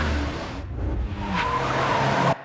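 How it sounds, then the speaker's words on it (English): A car whips round with its tires skidding and squealing, a loud continuous screech under engine roar that cuts off sharply at the end. "I just want the bit when the car whips round"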